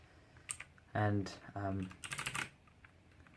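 Keystrokes clatter on a Motospeed Inflictor CK104 RGB mechanical keyboard, a quick run of crisp clicks heard under and between a man's speech, close and moderately loud.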